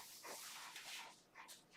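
Dogs give faint, distant, high-pitched yips and whimpers, several short cries in quick succession with no speech.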